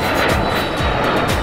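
A loud, steady roar of an airplane engine droning continuously throughout, close and unbroken.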